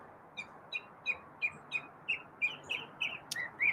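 Birds chirp outdoors in a steady series of about a dozen short, evenly spaced high tweets, clear and moderately close over a soft background hiss.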